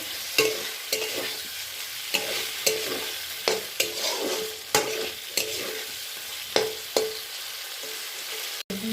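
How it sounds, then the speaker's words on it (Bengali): Potatoes stir-fried in a spice masala that has released its oil, with a spatula scraping the pan in a steady rhythm every second or so over a constant close sizzle. "আলু দিয়ে ভালো করে কষে নেব।"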